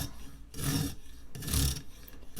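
A rough rasping scrape repeats in two short strokes as a sharpener skips and judders over the scallops of a serrated bread knife, close up with no talking.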